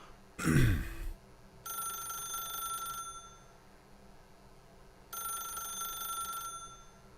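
A telephone rings inside the video game The Stanley Parable: two separate bursts of bright electronic trilling, each lasting over a second, with a muffled thud at the start and quiet room tone between rings.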